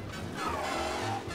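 A car in Mafia: Definitive Edition skids through a corner, its tires squealing in a wavering tone over a steady engine drone.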